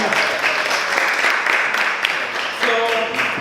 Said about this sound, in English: Alright, let's give them a round of applause.